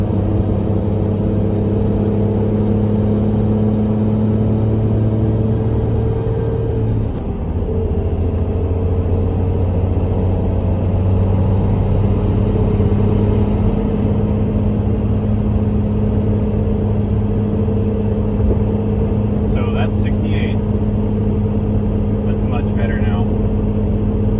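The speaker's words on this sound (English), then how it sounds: "We're going to get up to a highway speed here and just see how it sounds" A 6.7 Cummins truck fitted with an Aero Turbine-XL muffler cruises at highway speed, its exhaust a steady low droning hum with a shifting tonal note under the engine and road noise, with brief faint clicks late on.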